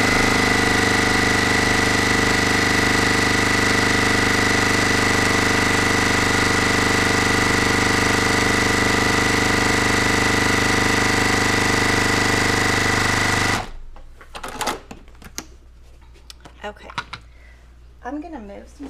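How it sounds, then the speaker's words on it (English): A sewing machine running fast with a 1/4 inch foot stitches fabric, a loud continuous mechanical whirring hum held steady for about thirteen seconds before stopping abruptly, followed by quieter handling noises and someone speaking. "I'm gonna sew with my 1/4 inch foot on really fast."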